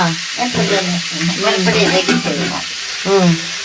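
Urad dal, chana dal, garlic and chillies frying in oil make a close, crackling sizzle with stirring, running beneath a voice talking throughout.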